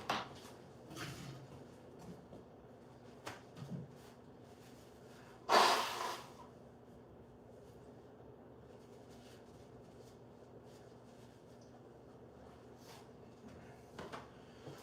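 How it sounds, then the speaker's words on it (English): Nose blown once into a tissue, a short loud burst of breath near the microphone amid quiet rustling and small taps in a dusty workshop where old boards are being built into a table. "So I just keep having to blow my nose."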